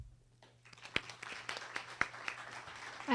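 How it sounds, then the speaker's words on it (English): Applause from an audience for student poets at a live poetry recitation event, starting thin and building into a steady patter of many hands clapping with a few sharper claps standing out. "we'll give you another big clap"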